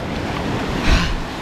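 Sea waves break on Tannirbhavi Beach in Mangalore, a steady close roar of surf with wind noise and a brief swell in loudness midway, no voices.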